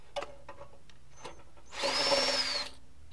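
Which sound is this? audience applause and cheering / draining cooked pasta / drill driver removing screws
drill driver removing screws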